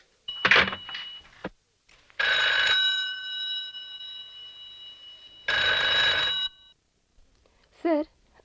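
An old-style telephone bell rings in two long trilling bursts in an indoor office scene of a radio drama, loud and close, separated by a short pause, with brief speech before and after.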